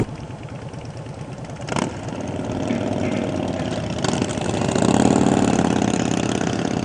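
Harley Sportster motorcycles with aftermarket exhausts, one with Vance and Hines pipes and one with straight pipes, idle close by in a deep, throaty, continuous rumble that swells slightly in the last seconds as a throttle is blipped, with no talking.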